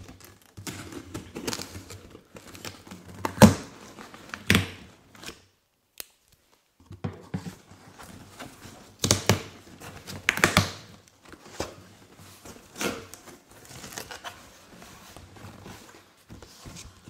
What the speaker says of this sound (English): We gotta cut this box.